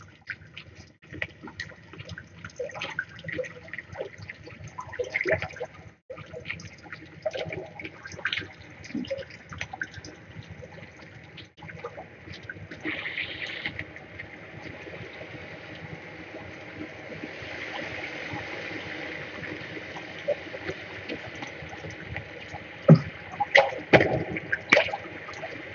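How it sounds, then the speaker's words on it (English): Water flows and trickles through an echoing cave in the video game The Forest, a faint, continuous wash with scattered drips and splashes that swells toward the end. "It's kind of noisy in the caves, especially when there's water around."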